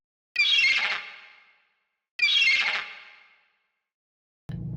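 Skuas in Antarctica near McMurdo Station giving loud, harsh squawks, two long calls in a row, close and clear, followed by a brief low noise.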